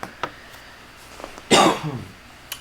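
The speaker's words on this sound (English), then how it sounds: "Pardon the coughs." A single sharp cough bursts out close by, preceded by a few quiet breaths and clicks, with a faint tap afterward.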